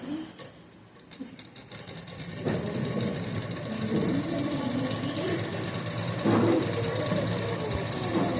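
A sewing machine stitching fabric, running as a continuous fast mechanical whir and rattle at moderate volume, with a voice talking over it.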